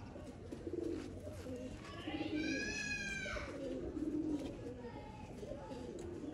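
Sialkoti pigeons coo softly in a loft, low rolling calls repeating near the mic, while a brighter bird call rises briefly in the middle and a voice talks over the steady background.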